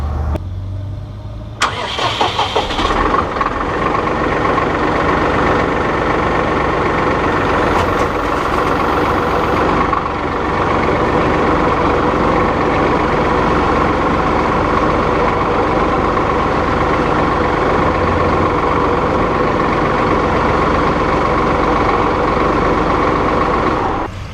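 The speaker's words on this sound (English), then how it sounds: "I'm going to fire up the tractor" A Massey Ferguson utility tractor engine cranks and starts, briefly revving, then settles into a loud, steady idle that chugs on close by without stopping.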